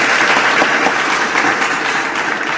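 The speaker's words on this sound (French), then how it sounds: "C'est donc drôle de se faire applaudir comme ça" Loud, close applause from an audience, a dense continuous roar of clapping hands that holds steady throughout with no voices above it.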